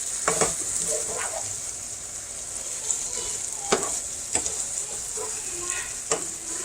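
Food sizzling and frying in a pan on the stove, a close, constant crackle broken by a few sharp stirring clicks and scrapes, with no talking.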